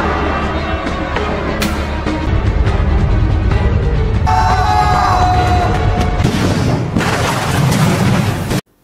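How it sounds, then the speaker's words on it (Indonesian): A loud, sustained explosion roars in a film scene after a detonator button is pressed, a dense rumbling blast that fills the whole stretch with crackling debris and a whistling tone before cutting off abruptly. "Dr. Chon lalu meminta Inbei memencet tombol peledaknya"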